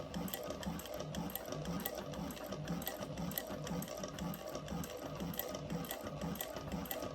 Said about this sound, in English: Let's do a nice little top stitch.